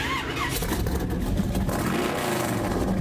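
A 396-cubic-inch small block V8, bored up from a 350 and fitted with drag pipes, revs hard in a 1946 Ford Thames truck, a loud continuous roar with rising and falling engine pitch close by.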